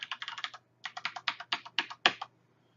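Fingers type a username and password on a computer keyboard: a fast run of crisp, close key clicks, a short pause, then another burst ending in one firmer keystroke, like Enter, with no talking.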